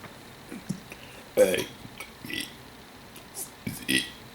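A voice imitates burping the alphabet in a string of short, guttural burped bursts spaced unevenly, fairly close and moderately loud, with speech around them.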